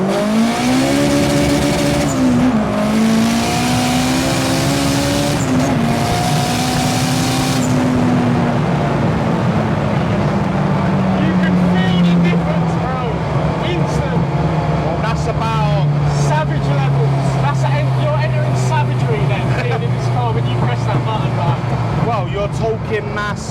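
A turbocharged Honda Civic Type R, boosted to about 515 brake horsepower, accelerates hard from second gear, its loud engine note climbing steadily and then shifting as the revs rise and fall, with someone talking over it.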